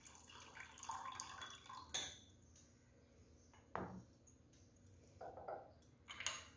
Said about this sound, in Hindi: अब हम अपनी ग्रीन टी डालेंगे जो कि मैंने लेमन फ्लेवर के लिए हुई है